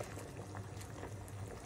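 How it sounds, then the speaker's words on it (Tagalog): A pot of water boils steadily for cooking boil-in-bag food, a faint continuous bubbling and low rumble with no talking over it. "So kaya nagbukal naman na tong tubig."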